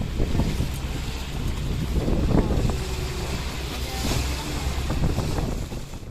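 A boat out on the waters off Sabang, Aceh, with steady wind buffeting the microphone and choppy, fairly high waves slapping the hull in a continuous rough roar, with no speech.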